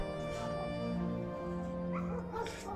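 Dogs howling and whimpering in the video game Solstice, long sustained wavering cries layered over soft saxophone music, steady and moderately loud throughout.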